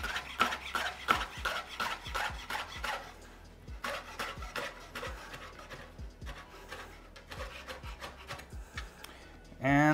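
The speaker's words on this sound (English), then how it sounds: "So I'm just gonna kind of roughly ball it up and" A knife chops rapidly through balled-up food on a cutting board, a quick run of sharp close taps with scraping between, as part of a vegan Italian tomato and white bean meal.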